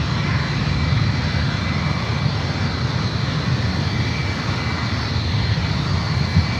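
United Boeing 757 taxiing toward the runway, a steady, continuous jet engine whine and rumble at moderate distance, with a faint high tonal hum over the broadband noise.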